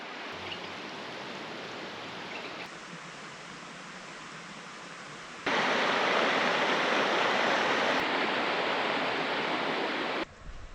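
Steady rushing water flowing over rocks at the convergence of the north and south branches of the Patapsco River, a continuous broadband roar that jumps louder partway through and holds, with no voices.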